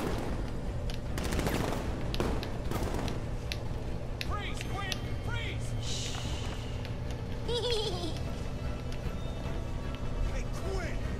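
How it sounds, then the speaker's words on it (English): Gunfire in Batman: Arkham Knight crackles in repeated bursts and sharp shots, some near and some farther off, mixed with clanking mechanical game sounds over a steady background hum. "Stop fucking shooting!"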